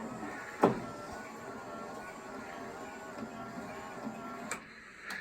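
Electric motor rotating the snowblower chute on a Husqvarna garden tractor, a steady mechanical whir running throughout with a sharp clunk near the start and small ticks and knocks as the chute turns.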